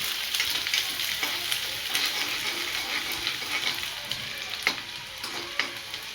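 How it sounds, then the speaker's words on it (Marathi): Chopped onion sautéing in hot oil for a green peas curry, a steady close sizzle with scattered crackles and a few sharper pops, no voices over it. "कांदा आपल्याला गुलाबी होईपर्यंत परतून घ्यायचा आहे"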